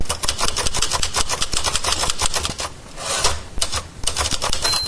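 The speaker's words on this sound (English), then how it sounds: "I'm gonna using the typewriter sound effect." Typewriter sound effect of rapid, close clacking keystrokes in an uneven rhythm, continuous for about five seconds with a short lull in the middle.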